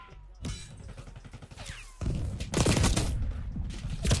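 Gunfire in the video game Black Ops 6 comes as rapid, dense bursts of automatic shots. It is loud and close, with a sharp crack and an echoing tail that grows heavier in the second half.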